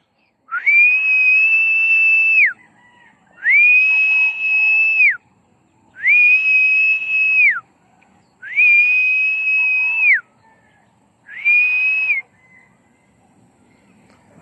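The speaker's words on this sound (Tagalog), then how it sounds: "Kailangan natin sumipol para lumakas yung hangin mga kamatik." A person whistles to call up the wind while flying a kite outdoors: five long, steady, high-pitched whistled notes, each about two seconds long and separated by short pauses, loud and close, with no talking.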